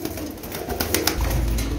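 Pigeons, KTM teddy and royal teddy breeds, coo softly in a loft, a low murmuring warble that swells toward the end with light rustling behind it.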